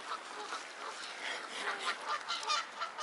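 Swans call repeatedly with honking, goose-like notes on an island shore, a dense run of calls close by and fairly loud over an open-air background.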